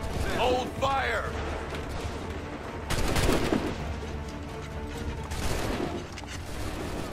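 Gunfire in the video game Assassin's Creed 3, heard as bursts of musket volleys and crackling shots with louder clusters around the middle and end, mixed with shouting voices and game sounds.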